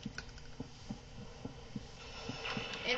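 A fast, steady heartbeat thumps in the Dragon Ball The Breakers video game, close and prominent. Other game noise swells louder toward the end.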